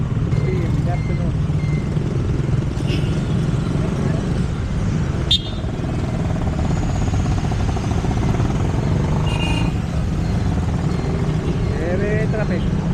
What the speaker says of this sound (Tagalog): Very traffic.